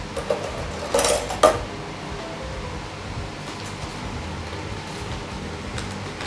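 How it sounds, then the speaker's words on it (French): Sugar poured into a non-stick frying pan, a brief granular rattle and a couple of light metallic clinks from the pan early on, then a quiet steady background hiss with no talking. "Dans la poêle anti-adhésive, on va mettre du sucre"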